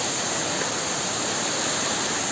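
Waterfall at Ekveera temple roaring in a steady, dense broadband rush that continues without a break.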